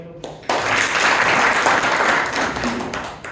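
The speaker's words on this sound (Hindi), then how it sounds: "इनके लिए ताली" Audience applause at a business networking talk by an MSME consultant, a dense crowd of clapping that bursts in suddenly after a brief pause and holds steady and fairly loud for about three seconds.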